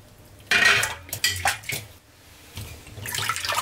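Raw chicken pieces being washed by hand in water in a kitchen, with several loud sloshing, splashing bursts and clattering against a bowl or sink, then steady running water near the end; no one talks.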